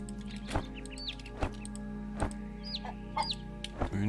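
Chickens cluck and chirp in the Green Project farming game, several short calls spread over a constant low machine-like hum, fairly close with no talking.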